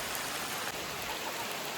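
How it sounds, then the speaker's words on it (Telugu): Rain falling steadily outdoors in the Ananthagiri Hills, a soft continuous hiss of drops on leaves and ground, faint and even throughout with no voices. "వర్షం అయితే ఫుల్ పడుతుంది"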